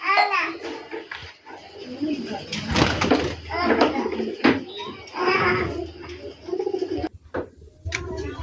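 Rajshahi Giribaz pigeons cooing close by in a home loft, soft repeated coos mixed with rustling and a door knock, while people talk over most of it.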